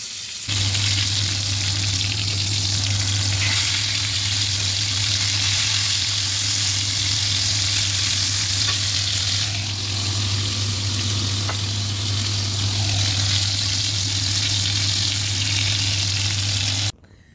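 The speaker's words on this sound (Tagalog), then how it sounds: "nakapagluto na ako or nakapagprito na ako ng ating breast chicken" Chicken breast frying steadily in a pan, a loud continuous sizzle with a low steady hum underneath, unbroken for the whole stretch and no talking.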